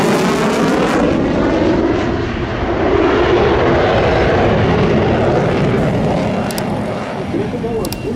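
A twin-engine military jet with afterburners roars past in a loud, sustained broadband rumble that swells and fades slightly while staying strong throughout.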